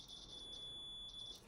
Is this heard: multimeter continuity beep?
yes